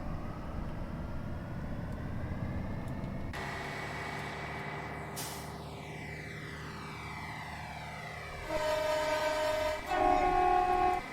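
A train rumbles past in a train simulator game on the Wessex Main Line, with a steady mechanical drone and shifting tones, and a loud horn-like blast sounds near the end.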